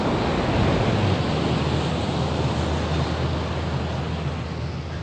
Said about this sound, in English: feel scary a little bit when you see the waves.